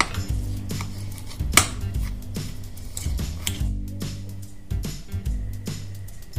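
Mashed boiled potato for aloo paratha is mixed with spices in a bowl, a spoon knocking and scraping in an irregular stream of close clinks and taps.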